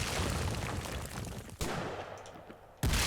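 A police shotgun fires in Lovecraft's Untold Stories, a randomised horror game: heavy, booming blasts with a noisy rumbling tail, including two sharp shots close together, loud and up front.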